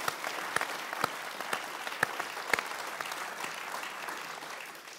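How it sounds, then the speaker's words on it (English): A lecture-room audience applauds a moderator at a science talk with a steady, fairly quiet patter of many hands, a few louder single claps poking through, fading slightly at the end. "please give a round of applause to your moderator, Michael Ridpath."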